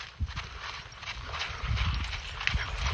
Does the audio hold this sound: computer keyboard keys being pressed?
no